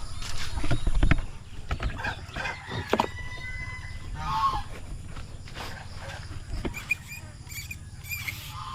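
Turkey and chicken chicks on a farm give repeated high-pitched peeps and cheeps at close range, over low rustling and scratching, with a little talk in the background.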